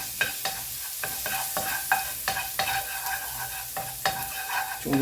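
Garlic frying in hot oil in a pan, with a continuous sizzle and repeated sharp scrapes and clacks of a utensil stirring at an uneven rhythm, close and clear, no voices.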